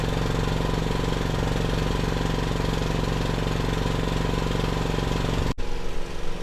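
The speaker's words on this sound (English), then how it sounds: "There you can see generator is running." A backup generator engine runs steadily at a constant idle during a night-time power outage test, with a loud, even drone and a strong low hum. Near the end comes a brief dip and a shift in tone.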